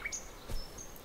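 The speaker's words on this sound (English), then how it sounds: "You can hear the birds in the background." Birds chirping in the background of the Salt indie video game: a few quick, faint high chirps over quiet ambience, with no talking.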